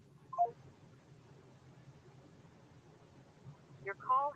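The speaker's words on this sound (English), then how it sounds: "No, Mitch, pick up the phone" Outgoing phone call ringing through a handset during a dialing session: short tonal ring bursts near the start and again near the end, quiet, over a low background hum.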